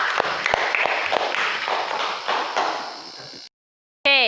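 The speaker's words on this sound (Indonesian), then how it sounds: "Tepuk tangan untuk Tiara." Pupils applauding a classmate in an elementary school classroom during a lesson, a dense burst of claps that fades and cuts to silence before a brief tone at the end.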